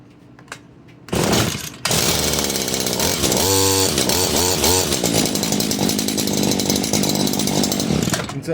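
A Stihl HL 94 hedge trimmer with a loss-of-power fault sputters briefly, then fires up and runs loud and close, its small two-stroke engine revving and bogging unevenly.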